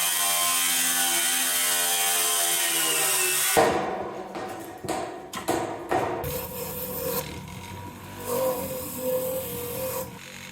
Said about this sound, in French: je vais couper sur le trait, je veux pas que la tôle rentre trop juste